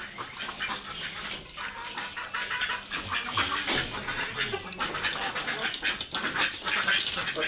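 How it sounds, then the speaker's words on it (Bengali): Ducks quack as they eat, a dense mix of nasal calls and splashy dabbling in water, continuous and fairly loud up close, with other farmyard birds nearby. "গাইস আমাদের হাঁস চলে এসেছে। জোরে জোরে খাও।"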